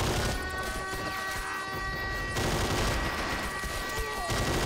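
A manned turret in Men of War: Assault Squad 2 fires in a continuous heavy barrage, with sustained rattling gunfire layered under dense battle noise throughout.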